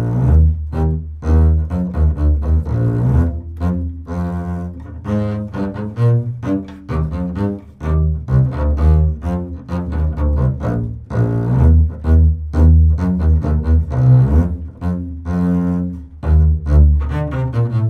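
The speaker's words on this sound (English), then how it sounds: "This is the sound of the bass." A double bass, or string bass, plays a flowing melodic line of distinct notes at a moderate pace, loud and close with no talking.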